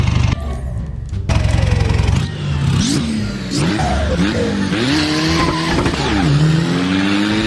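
A modified pickup truck launches on the Klong 5 track in the racing game Assetto Corsa, its engine revving hard through rising gear shifts with squealing tires, loud and close, without talking.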